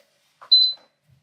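A Vevor 3-in-1 auto hat press gives one short, clear electronic beep on reaching temperature, preceded by a faint click in an otherwise quiet room.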